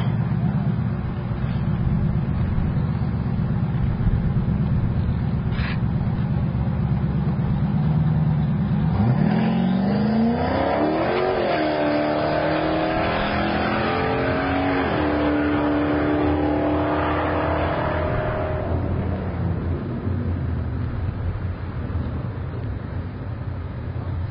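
A Chevrolet Monte Carlo SS drag car at a Hot Rod Drag Week event in Tulsa, Oklahoma, with its engine rumbling steadily and then revving up loudly midway, the pitch rising and holding before fading back, over constant crowd and track noise.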